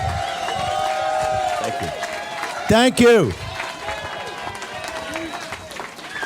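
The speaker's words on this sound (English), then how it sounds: "Let's give him a round of applause" A crowd at a political event cheers and claps for Stephen K. Bannon, a steady wash of applause with a brief spoken thanks cutting in partway through.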